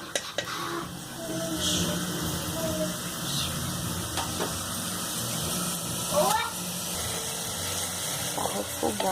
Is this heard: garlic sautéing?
yes